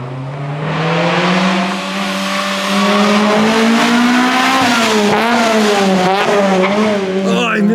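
A Honda CRX engine revs hard on a race track, its pitch climbing and dropping through gear changes, loud and sustained with a brief shriek near the end, no one speaking.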